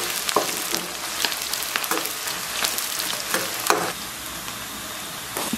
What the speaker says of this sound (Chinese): 咱把葱丝和姜丝煸得微微有点发黄以后